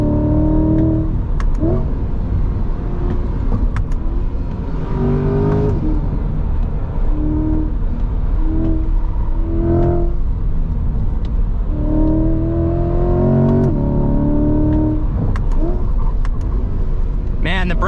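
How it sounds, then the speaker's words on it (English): A 2021 Chevrolet Corvette C8 engine pulls through several loud rising rev sweeps while driving, with gear changes between runs, heard close from inside the car without talk. "I'll let you listen to the engine for a little bit. I'll shut up because this thing sounds so good."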